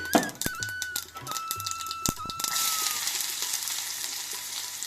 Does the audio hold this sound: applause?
no